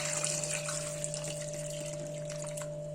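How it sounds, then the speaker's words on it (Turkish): Water running into a pot of potatoes, a continuous even gush and splash with a steady pump-like hum underneath, close by and without speech. "Üzerine geçecek kadar su ekliyorum."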